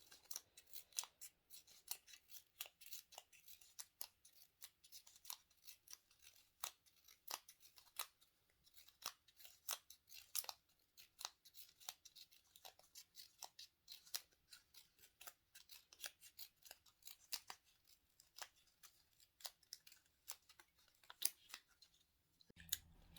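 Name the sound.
scissors cutting a paper strip into a fringe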